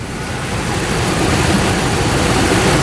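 A 2005 Dodge Ram Power Wagon standard cab pickup with a 5.7 Hemi V8 runs steadily, a loud, close, deep engine drone that holds evenly throughout with no talking.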